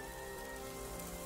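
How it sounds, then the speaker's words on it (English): Rain falling as a film sound effect: a dense, steady hiss of drops spattering on surfaces, loud and continuous for the whole short stretch, with faint tonal music underneath. "Then came the rain"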